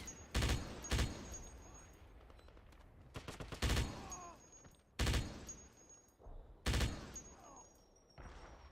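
A mounted machine gun fires in Wolfenstein, coming as several short, sharp bursts spread across the span with quiet gaps between them, fairly faint overall, with a few small in-game sounds in between.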